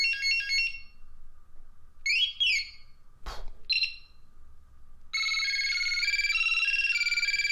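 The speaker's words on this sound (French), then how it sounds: "C'était un peu strident quand même, hein, les sonneries à l'époque." A Sony CMD-Z1 mobile phone plays its shrill, beeping ringtone: bursts of electronic tones, a short pause, then a sustained melodic sequence, loud and close with no speech.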